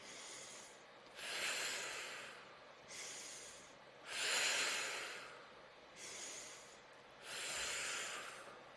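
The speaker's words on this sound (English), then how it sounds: "So let's breathe for a bit." Slow, deep breaths drawn in and let out through the nose during a quiet guided stillness exercise, four or five long airy swells rising and falling in an even rhythm, close and soft with no talking.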